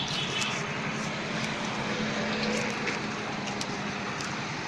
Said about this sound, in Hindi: ये लगभग हमने अभी इसको 800 आरपीएम पे सेट किया है